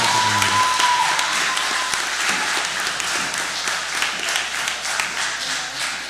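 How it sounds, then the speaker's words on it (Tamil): An audience at a Tamil debate forum applauds loudly, with dense, sustained clapping that carries evenly from start to finish. "மீண்டும் ஒரு முறை பலத்த கைத்தட்டுதலை வழங்குமாறு அன்போடு."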